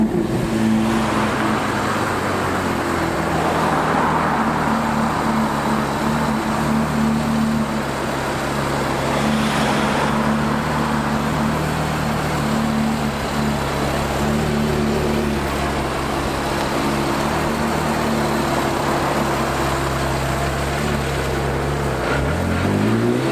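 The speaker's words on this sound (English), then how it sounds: "It is certainly not every day that you bump into a Carrera GT in London, such a classic car with such an amazing soundtrack" A Porsche Carrera GT engine runs continuously on a London street, a loud steady drone with sustained tones that hold for over twenty seconds, close by and alone with no talking.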